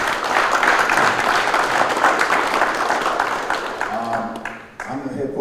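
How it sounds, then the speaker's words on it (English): An audience claps for a group of urban high school football coaches, a loud, dense round of applause that tapers off, with a voice starting to speak as it fades. "So we need to give all these coaches a round of applause."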